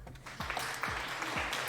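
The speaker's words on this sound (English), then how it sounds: "there's applause and everything" Applause with scattered hand claps, fairly faint and steady for a moment, with no voices.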